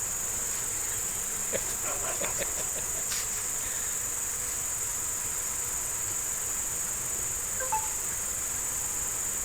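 Crickets chirping in a steady, continuous high-pitched drone outdoors among trees, loud and unbroken throughout, with a few faint clicks and a brief distant call layered underneath.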